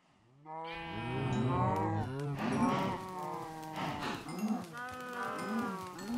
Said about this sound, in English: let me just feed the cows very quickly